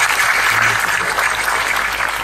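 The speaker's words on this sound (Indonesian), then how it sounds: "Sekali lagi tepuk tangan untuk beliau teman-teman kita" A large audience at a gathering with religious leaders and officials gives a round of steady applause, a dense crowd clapping continuously through the whole moment.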